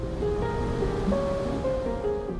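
Torrents of water rushing past dark rocks in Norway, a continuous loud roar with a steady low rumble, alone and unbroken throughout.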